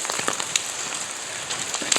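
Rain falls at night just outside a tunnel, a steady hiss of drops with scattered sharp patters and splashes, moderately close and continuous, with no voices.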